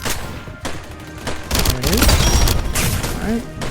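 Rapid bursts of video game gunfire from Weird Gun Game, with sparse shots early, then a dense, loud volley mixed with game effects and a voice talking over it.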